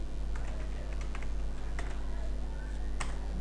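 Someone types HTML code on a computer keyboard: a rapid, uneven run of close keystrokes over a constant low electrical hum.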